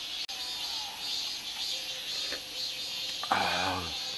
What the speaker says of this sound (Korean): 매미 울음소리 좋지 않아?